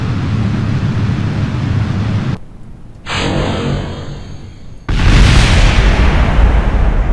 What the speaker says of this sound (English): there's the standard explosion we've all come to know